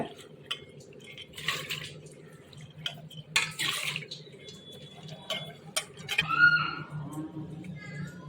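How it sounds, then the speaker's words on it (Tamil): Toor dal lentils being washed in water in a home kitchen, with repeated clinks of a utensil against a vessel and light sloshing under background talk and a steady low hum. "பருப்பு நல்லா சுத்தமாக கழுவி எடுத்துக்கோங்க"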